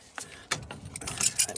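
Metal adjustable spanner or grips fitted onto a water pump fitting during a boiler repair, making a few sharp clinks and scrapes, close and fairly quiet, growing busier toward the end.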